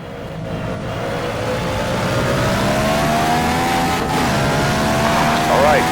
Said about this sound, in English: I'm going to leave you with some in-car sounds, because they just sound divine